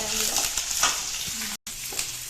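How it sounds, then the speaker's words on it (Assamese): Onions and green chillies sizzle steadily in a pan for a drumstick and potato dish, a close continuous frying hiss with faint stirring and a brief silent gap, no speech over it. "পিঁয়াজ জলকীয়া দিলে এতিয়া আৰু এতিয়া অলপ ভাজি আছে"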